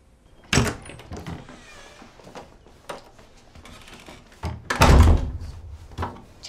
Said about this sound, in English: Jam the door.